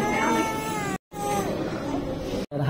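An infant cries in wavering, drawn-out wails inside a home, fairly close and loud, with two brief gaps of silence breaking the sound.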